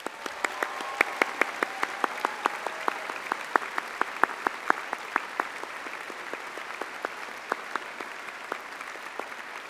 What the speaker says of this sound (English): join me in thanking them with a huge round of applause